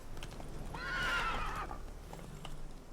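Roach, the player's horse in The Witcher 3: Wild Hunt, gives a loud, rising whinny lasting about a second, with hoof clip-clop running underneath.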